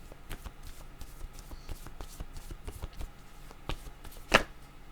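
Cards riffled and shuffled by hand for a tarot-style reading, a run of soft rapid flutters and taps with one sharper snap near the end, fairly close and quiet, no voices.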